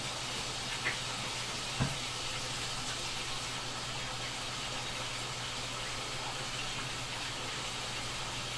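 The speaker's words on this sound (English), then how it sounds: "I'm going to wash my hands again" Tap water runs in a steady, broad hiss while hands are washed under it, with a couple of faint knocks near the start.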